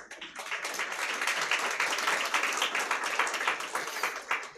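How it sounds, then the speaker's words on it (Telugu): A church congregation of married couples claps for themselves in a steady, dense round of applause that fills the whole stretch at an even level, with no talking over it. "మీకోసం మీరు చప్పట్లు కొట్టుకోండి"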